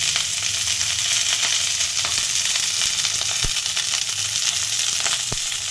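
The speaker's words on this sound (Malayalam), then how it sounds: "കടുകും വെള്ളമൊക്കെ എണ്ണയൊക്കെ തെറിക്കുന്ന സമയത്ത്" Mustard seeds, onion and mixed vegetables for a thoran sizzling and spattering in hot oil, a loud, dense, continuous crackle close by with a few sharper pops.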